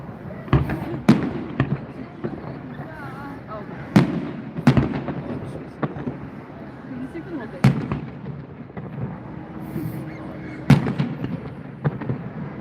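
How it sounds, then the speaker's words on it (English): New Year's fireworks at a celebration in Coeur d'Alene, Idaho, with a dozen or so sharp bursts and booms at irregular intervals over a steady crowd hum and distant chatter. "I love fireworks"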